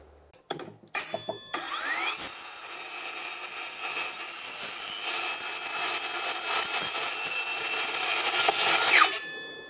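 An OSUKA OCS 827 cordless circular saw spins up with a few sharp starts, then cuts steadily through wood with a loud, continuous high whine that builds toward the end.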